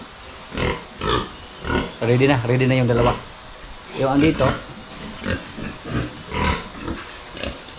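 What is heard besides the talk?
pigs on a farm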